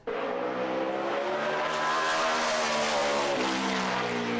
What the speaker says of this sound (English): As the 78 car zoomed around the oval